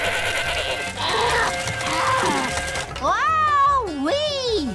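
Goats bleat in an animated cartoon scene: voices talk at first, then loud, wavering, rising and falling bleats come up close.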